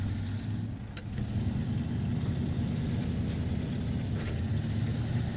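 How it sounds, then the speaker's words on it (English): Truck engine in the video game SnowRunner, newly fitted, running at a steady low rumble that holds even throughout, with a couple of faint clicks above it. "See how she does with the new engine."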